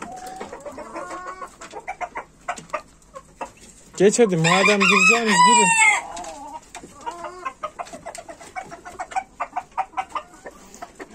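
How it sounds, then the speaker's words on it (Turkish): A rooster calls hens back into the coop, giving a long loud crow in the middle, with a flock of hens clucking and squawking throughout and a person speaking briefly. "Horoz efendi tavukları geri topluyor"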